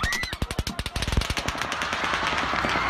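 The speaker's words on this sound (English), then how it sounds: "A barrage of automatic gunfire, some at the outdoor festival mistake for celebratory bangs" A barrage of automatic gunfire at an outdoor concert crackles in rapid, evenly spaced bursts that blur into a continuous rattle, heard from a distance amid crowd noise.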